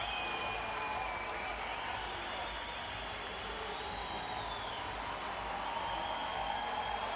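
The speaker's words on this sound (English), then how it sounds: "everybody on their feet applauding two of the greats" A stadium crowd at the Rio 2016 Paralympic swimming gives a standing ovation during a victory lap for two para swimmers, a steady wash of distant applause and crowd noise throughout.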